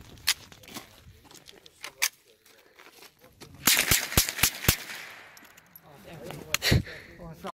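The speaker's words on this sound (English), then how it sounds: "Alright, we're gonna bump fire. Alright, now we're trying 5 rounds." A .22 LR rifle is bump fired at close range, producing a quick burst of about five sharp cracks near the middle of the stretch, with speech before and after the shots.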